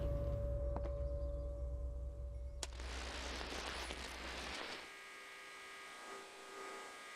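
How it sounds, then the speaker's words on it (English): In the video game Mundaun, a radio gives off a steady electrical hum with a faint tonal whine, then swells into a rough wash of static before settling back to a quieter drone. "Listen to that radio. That's the sound of limbo right there."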